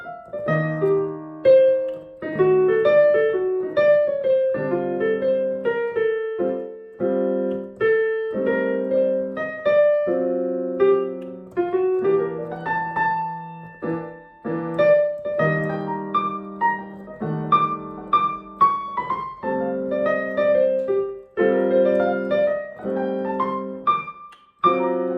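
A solo piano phrase over the changes of a jazz standard opens with a single-note arpeggio lead-in, then moves into clear melodic lines over sustained chords, played clean and close without talk.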